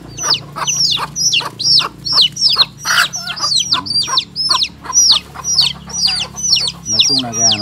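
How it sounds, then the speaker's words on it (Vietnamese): A hen clucks steadily while leading her chicks outdoors, a rapid series of sharp, close clucks and chirpy calls repeating in a regular rhythm, loud and clear, with a faint low hum beneath and no talk. "Gà đang dẫn con."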